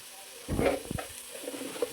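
Chopped onion hitting a hot pan with salt, a short burst of sizzling and stirring clatter that soon settles into a faint, steady fry, quiet and close.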